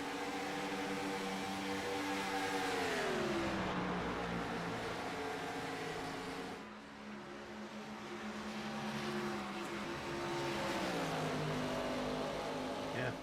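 Race cars in an ERSCA series race at Homestead, engines droning and shifting pitch as they pass around the track, fairly loud and continuous, with faint commentary underneath.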